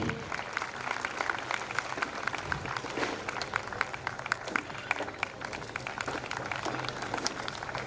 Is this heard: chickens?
no